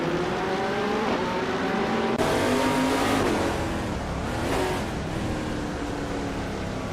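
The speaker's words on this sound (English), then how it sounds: "The race has just kicked off at Zolder and leading the pack is Nuts in a 2016 Ligier JSP3." 2016 Ligier JS P3 race cars at Zolder in a racing video game, engines revving hard at the start with a loud, steady roar and shifting pitch as the cars accelerate and pass.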